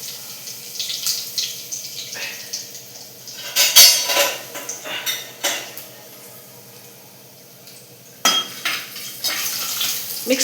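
Whole spices (cinnamon, cloves, bay leaf, cardamom, cumin) stirred in hot oil in a metal pot for pulao, with scraping and clinking of a spoon against the pan in uneven bursts and a light sizzle underneath.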